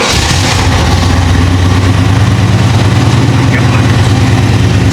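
A 1976 Pontiac Trans Am V8 idling after starting, a loud, steady low rumble close by with a constant throb and no clear pauses.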